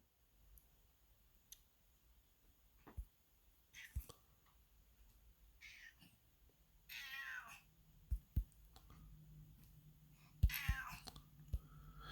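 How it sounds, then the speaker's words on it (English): Felix, a pet cat, gives several short meows spread out among quiet room noise, clicks and soft taps. The meows are moderately close and not loud, with faint whispery sounds between them. "And there's my cat, Felix."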